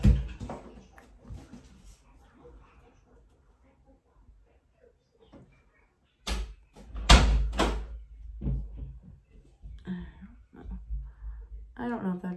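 A door is pushed shut in a home, a single solid thud and latch close by, followed by someone talking at moderate volume.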